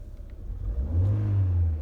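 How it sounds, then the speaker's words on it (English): A car engine fires up after a pedal is pressed, rising from a low rumble into a steady, louder idle hum within about two seconds, heard alone and close. "See, as I press it, the engine"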